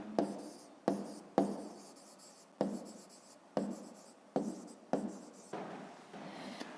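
A pen writes out a math solution on paper in short, close scratching strokes, about eight bursts separated by brief pauses, quiet and alone.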